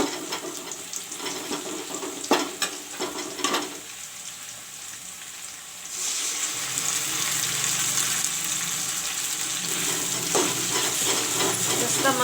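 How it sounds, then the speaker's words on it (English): Masala paste is added to browned onions in a pan: a few clinks and stirring knocks come first, then a steady, close sizzle of frying takes over for the rest. "Now I will put in the masala."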